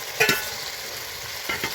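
Fried chicken pieces go into a pan of sizzling masala, giving a steady frying hiss with two brief louder bursts of stirring and clatter near the start and near the end.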